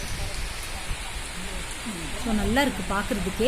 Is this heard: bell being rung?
no